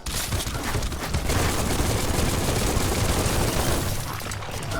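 Sustained gunfire from the video game Biomutant, a dense, continuous fusillade of loud shots with booming impacts running steadily throughout, close and uninterrupted.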